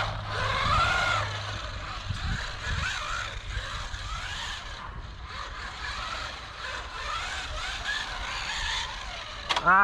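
Electric motor of an SG601 Breaker 1/16 scale 4x4 RC truck whining and revving in bursts, a thin high buzzing that rises and falls over several seconds, with occasional low knocks and a brief louder burst at the end.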